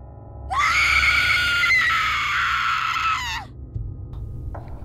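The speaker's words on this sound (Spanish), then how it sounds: "soltó un grito desgarrador que se escuchó en todo el pueblo" A woman's long, agonized scream rings out loud and close for about three seconds, then breaks off, with a low rumbling bed beneath and a faint sound afterward.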